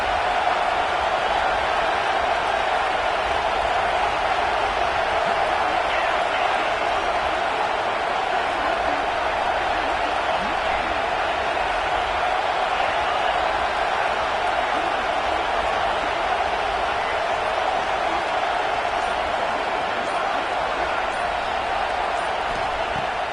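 A football stadium crowd roars at a Georgia vs Auburn game on fourth down, a loud, sustained, dense wall of cheering noise holding steady throughout.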